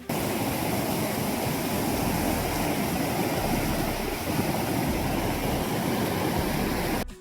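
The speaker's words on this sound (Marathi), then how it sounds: "आपण आता इकडून धबधब्याच्या थोडेस जवळ जाऊ" Ozar waterfall on the Girna river, a steady, loud roar of falling water filling the whole stretch without pause, with no voices over it.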